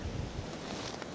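Wind blows hard at an off-grid lake cabin under construction, a steady low rumble of gusts buffeting the microphone with a soft rushing hiss above it.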